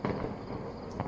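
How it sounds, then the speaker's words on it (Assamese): Firecrackers bursting during Diwali celebrations: a continuous crackling roar with sharper bursts at the start and near the end, steady and fairly loud throughout the short stretch. "ছেকেণ্ডত লাখ লাখ ফটকা ফুটি আছে"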